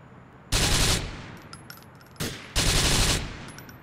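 Two loud bursts of rapid gunfire from the GTA IV video game, each lasting about half a second, the second burst split into a short volley and a longer one, with quiet gaps between.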